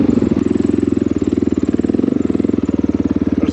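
A Honda XR650L motorcycle engine runs steadily close by, its loud, rapid thumping pulse unbroken for the whole stretch, with no voices over it.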